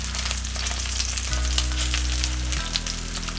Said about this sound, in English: When y'all saw that I had that on there and I laid it down, like it sizzled pretty loud.